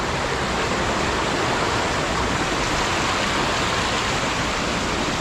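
Water gushing steadily from a broken water line hose in the rural countryside, a continuous loud broadband rush close by with no pauses, alone without voices.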